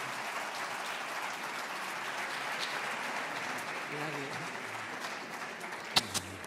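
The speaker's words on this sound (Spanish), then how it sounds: "Y nada, un aplauso" Continuous distant applause from a large audience, a steady even wash of clapping, with a brief voice near the end.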